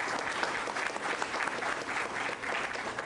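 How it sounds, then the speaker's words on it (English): Steady audience applause fills a hall for a group of Columbia College students seated at the back, a dense, continuous patter of many hands at moderate volume with no talk over it. "Give them a round of applause."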